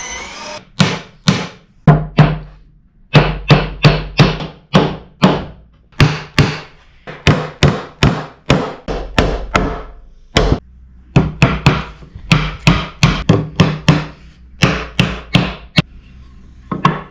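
Loud, sharp hammer blows on scrap wood while building a birdhouse, struck in quick irregular bursts of several hits with short pauses between them.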